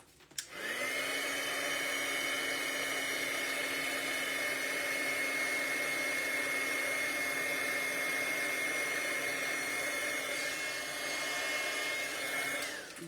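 A heat tool melts black embossing powder on Lunar Lustre specialty paper during card making, giving a steady, close, hair-dryer-like whoosh that runs unbroken for about twelve seconds with no talking.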